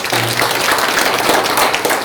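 Audience applause at a Korean War POW/MIA remembrance ceremony in Geumsan, a steady burst of many hands clapping, fairly loud and continuous with little speech.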